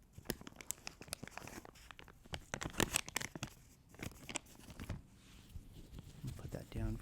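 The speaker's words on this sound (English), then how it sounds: "I proceed to rip that very wet plastic" Wet plastic wet wipe packaging is ripped open close up, giving a run of sharp crinkling tears and crackles with brief pauses between pulls, under soft whispered talk.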